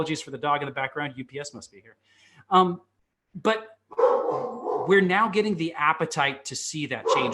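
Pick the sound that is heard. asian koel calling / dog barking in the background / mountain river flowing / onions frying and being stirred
dog barking in the background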